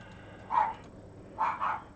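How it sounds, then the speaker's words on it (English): Dogs bark in the background, two brief bursts of barking about a second apart, distant and fairly faint over a quiet room. "Sorry about the dogs, if you can hear them."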